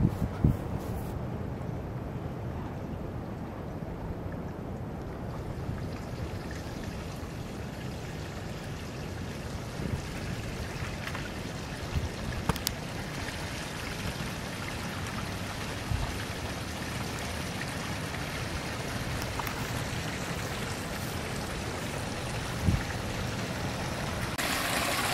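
A backyard pond waterfall runs steadily after a repair, a continuous broadband rush of falling and splashing water close by, unbroken for the whole stretch with no talk.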